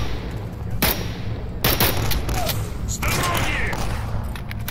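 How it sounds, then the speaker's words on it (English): Gunfire in the S.T.A.L.K.E.R. Anomaly mod, set around the Chernobyl power plant: several sharp, loud shotgun blasts and shots crack at irregular intervals over a dense rumbling background, with a player's voice talking in between. "Someone's being shotgunned over here."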